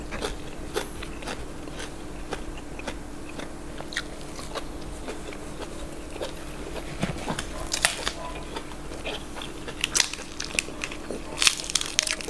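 Crisp organic raw vegetables being chewed close up, eaten alongside fresh raw beef with a bitter dipping sauce, giving a steady run of crunchy bites over a faint background hum.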